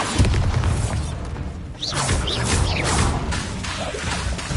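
Bombarda spell blast in Hogwarts Legacy, a loud booming burst with whooshing magical swishes and crashing debris in a busy stretch of combat effects.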